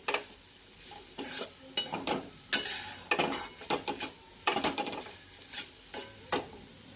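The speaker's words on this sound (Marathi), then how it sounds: "हे दोन चमचे दूध घातल्यानंतर छानपैकी याला मिक्स करून छान परतून घ्यायचं आहे" Wheat flour mixed with a little milk is stirred and roasted in a pan, with a spoon scraping in repeated uneven strokes over a faint sizzle and no voices.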